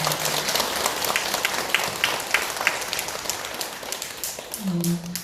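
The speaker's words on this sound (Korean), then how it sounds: "우리 모두에게 큰 박수 부탁드립니다" An audience at a Korean Buddhist meditation Dharma service applauds in a steady wash of clapping, fairly soft and even, with a short tonal sound near the end.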